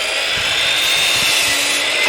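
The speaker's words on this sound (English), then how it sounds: "This chop saw is also a very hard thing to start up." A chop saw runs on power from a Jackery Explorer 1500 portable power station, giving a loud, steady high-pitched motor whine that holds evenly for about two seconds with no voices.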